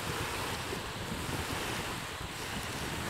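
Surf breaking steadily at Wright's Beach, New Hampshire, a continuous loud wash of waves with wind buffeting the microphone throughout, no voices.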